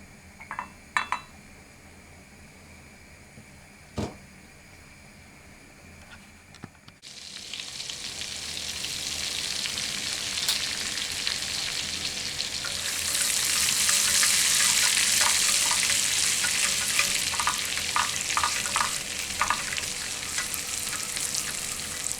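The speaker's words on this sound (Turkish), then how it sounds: "Şimdi tereyağımla nanesini kavuracağım." Butter and dried mint fry in a pan for a Turkish yogurt soup: after a few clinks in near silence, a sudden sizzle starts and builds into a loud, steady crackling hiss with scattered pops and utensil clinks.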